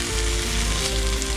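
Chicken pieces fry in a pan with a continuous, close, loud sizzle and crackle of hot oil.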